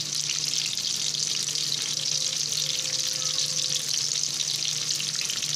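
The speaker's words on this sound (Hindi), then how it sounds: "एक कढ़ाई में मैंने प्याज लाल होने के लिए डाला है" Onions fry in a kadai with whole garam masala, giving a steady, close and fairly loud sizzle that runs evenly throughout with no talk.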